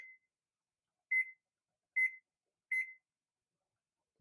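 Kitchen timer being set while shrimp and grits simmer, giving four short, clear electronic beeps at a steady rhythm, close and alone, with no talk over them.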